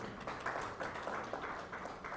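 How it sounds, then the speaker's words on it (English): Faint, steady clapping from an audience rewards a speaker at the launch of a report on child-sensitive social protection in Uganda, a distant, even patter with no talk over it. "Can you please give him another round of applause?"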